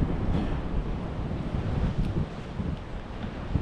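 Steady wind roaring and buffeting continuously across the microphone, with a low rumble and no voices.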